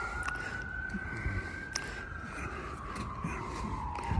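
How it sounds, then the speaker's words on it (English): An emergency vehicle siren wails steadily in the background, a single sustained tone that slowly drifts lower in pitch as it passes, moderately distant over a constant low rumble of ambient noise. "Unfortunately, there's a siren in the background."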